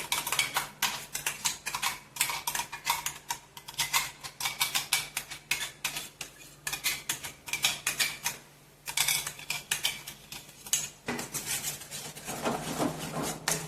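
A spoon stirs mango puree in a hot kadai with quick, rhythmic scraping and clinking strokes against the metal, fairly close and continuous with a brief pause midway and no talk.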